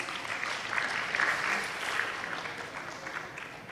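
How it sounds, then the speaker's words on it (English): Audience applause at an academic conference honoring two speakers, a steady moderate round of clapping from a mid-sized crowd, even throughout and slightly tapering at the end. "give a round of applause for our 2 speakers"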